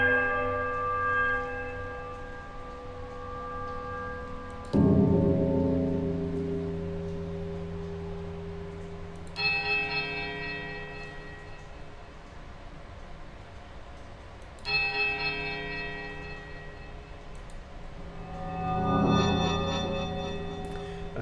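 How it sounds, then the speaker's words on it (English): Bells ring in Pillars of Eternity, four separate strikes spaced about five seconds apart. Each rings out with a bright, resonant tone that slowly decays in a quiet, echoing space. "muting the sound of the bells and the eternal drip of damp stone"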